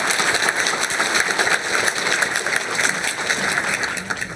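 Church congregation clapping together in welcome during a Sunday worship service, a dense, steady wash of applause sustained throughout at moderate loudness.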